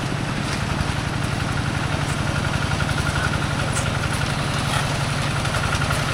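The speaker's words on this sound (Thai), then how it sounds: "รถไถเป็นมาเลยพี่น้อง" A farm tractor engine runs steadily at close range during a Songkran gathering, a continuous low rhythmic chugging with constant vibration and no voices.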